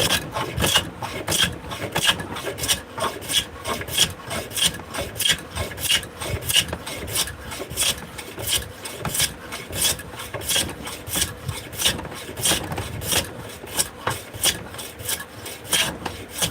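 Rhythmic rubbing on a beech wood spoon as oil is worked in, a quick run of regular dry rasping strokes, close and fairly quiet, with no talking.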